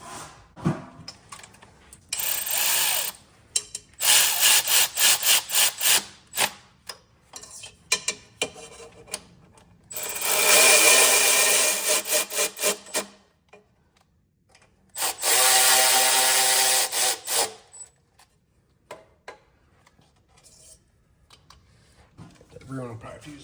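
Bolts on a 6.7 Powerstroke intake manifold crossover tube being tightened during an intake kit install, heard as several bursts of buzzing power-tool spinning and metallic clinks separated by short pauses.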